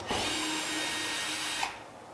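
A power drill whirs steadily at close range for about a second and a half, driving a 1 5/8 or 2-inch screw through 5/8 drywall into a ceiling stud, then stops abruptly.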